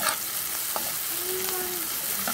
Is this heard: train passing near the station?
no